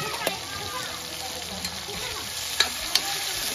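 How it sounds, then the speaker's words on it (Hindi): Thinly sliced long onion strips fry in hot oil in a village kitchen, giving a steady, even sizzle with a few sharp spatter pops. Voices talk faintly underneath. "ये मैंने इतना बारीक लंबा लंबा काटा हुआ है प्याज वो डाल"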